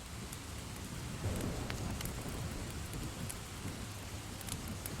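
Rain falls steadily at night, a continuous faint hiss with scattered drop ticks and no other sounds.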